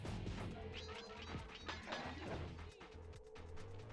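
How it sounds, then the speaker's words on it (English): Glass smashes in the Sly Cooper video game, a loud run of crashing impacts and shattering clatter that lasts several seconds over steady game background sound. "You can break the glass. It's quite loud."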